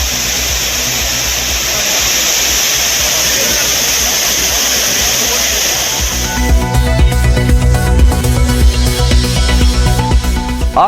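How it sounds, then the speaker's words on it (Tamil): Courtallam waterfalls pour with a steady, loud, broadband roar of rushing water, continuous for several seconds before music takes over. "சீசன் முடிந்த பின்பும் குற்றால அருவிகளில் சீரான நீர்வரத்து."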